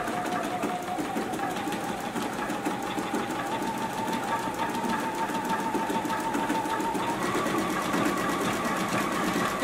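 Close, continuous whirring of a JUKI sewing machine stitching a beverage coaster, a steady mechanical drone with a faint rising tone running unbroken for nearly ten seconds.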